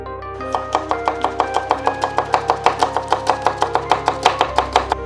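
A knife chops onions on a board in a fast, steady rhythm of about five close, crisp strikes per second, with no voices.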